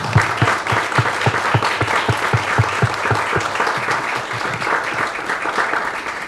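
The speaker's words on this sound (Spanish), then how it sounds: "le vamos a dar un aplauso" Steady applause from an audience at a literary talk fills the whole stretch, dense and continuous, with individual claps blending into a sustained wash of sound.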